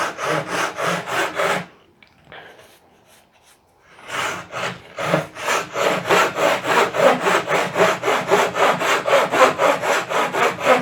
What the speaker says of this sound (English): I'm going to flip the saw over and use this finer crosscut blade and just start to slowly move it over this way a little bit